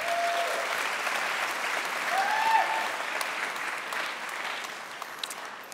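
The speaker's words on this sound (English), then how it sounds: "a round of applause to you" An awards-show crowd claps steadily in sustained applause, a dense wash of hand claps that swells slightly midway before easing off.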